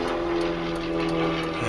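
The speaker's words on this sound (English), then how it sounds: "you can hear a plane going overhead" An airplane passes overhead along Route 110, a steady droning engine rumble with layered tones, continuous and moderately loud through the short stretch.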